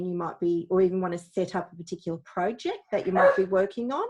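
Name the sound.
dog barking in background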